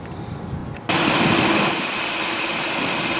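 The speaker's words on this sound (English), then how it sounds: "both of the fans actually were just running for a second" Cooling fans on a 2004 Chrysler 300M 3.5 V6 kick on abruptly, shifting from a quieter hum to a loud, steady broadband whoosh that holds close and constant to the end with no talking.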